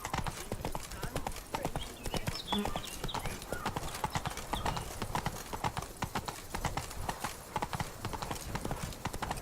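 Horse hooves clip-clop at a steady gallop in The Witcher 3: Wild Hunt, loud and continuous throughout, with an occasional whinny and faint game ambience underneath.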